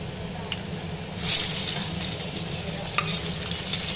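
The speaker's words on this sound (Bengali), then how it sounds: "পাবদা মাছগুলো ভালো করে ভাজা হয়ে গেছে" Pabda fish frying in a pan, a close, steady sizzle with stirring scrapes and a couple of light utensil taps, no voices.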